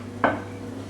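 Mackerel fillets being turned over on a grill tray, a single short metallic scrape and clink close by, followed by a faint sizzle and low steady hum.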